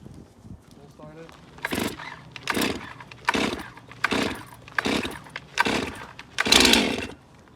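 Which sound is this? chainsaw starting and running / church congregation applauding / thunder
chainsaw starting and running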